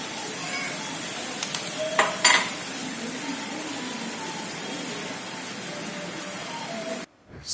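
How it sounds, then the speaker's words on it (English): Steady, crackling sizzle of a brownie on a hot sizzler plate, with a few faint clinks of a spoon or dish and no talking. "This sizzling noise just brings a smile on my face."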